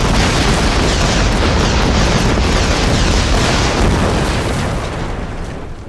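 A loud, sustained explosion rumbles and roars for several seconds as a LEGO sniper tower is blown up in a stop-motion animation, tailing off slightly at the end.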